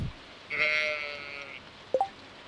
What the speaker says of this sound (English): We got we got a sheep